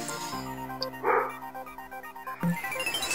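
A dog gives a few short yips and whimpers close by, with a brief bark near the end, over a low steady background hum.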